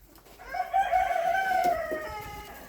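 A bantam rooster gives a single loud, close crow lasting about two seconds, its pitch rising and then holding before it trails off.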